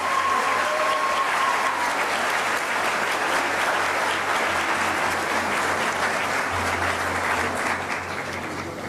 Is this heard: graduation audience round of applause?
yes